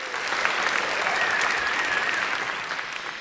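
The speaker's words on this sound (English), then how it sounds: "You can give him a round of applause." Sustained, even applause from a banquet audience at the Virginia Sports Hall of Fame 2018 induction ceremony, a broad wash of clapping that fades slightly at the end.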